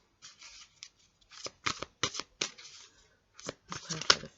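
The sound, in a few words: shuffling tarot cards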